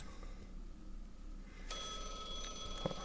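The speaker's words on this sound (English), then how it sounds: "Aru, why aren't you answering your phone?" In the video game Blue Archive, a phone starts ringing partway through, a bright electronic tone that holds steady and moderately loud over soft background sound.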